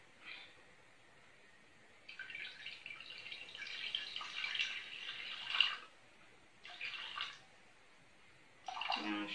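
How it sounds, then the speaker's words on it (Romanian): About 300 ml of water pours into a cooking pot in several quiet bursts of hissy splashing, broken by short pauses, at close range in a home kitchen. "Punem 300 de apă pe foc"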